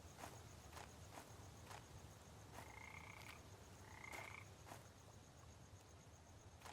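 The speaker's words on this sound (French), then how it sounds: "Il y a des petites grenouilles." Small frogs croaking in The Stalked 2 video game, with a few soft croaks amid a night ambience. Regular footsteps crunch along throughout, quiet and without talk.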